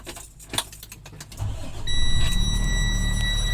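A 2020 Force 1 motorhome has its ignition switched on. Some clicks and rattles come first, then the engine catches and settles into a steady low idle hum that carries to the end.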